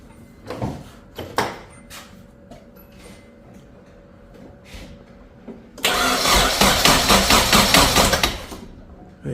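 A Nissan 240SX S13 engine is cranked over: a few clunks and knocks come first, then a loud, rhythmic starter-driven churning for about three seconds without firing.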